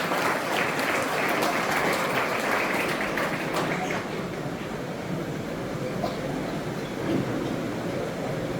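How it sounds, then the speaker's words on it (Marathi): An audience in a lecture hall claps to welcome a guest speaker at an educational event, a dense, sustained roar of applause that stays loud throughout and tapers only slightly toward the end. "सर्वांनी जोरदार टाळ्या वाजवून सरांचं स्वागत करावं"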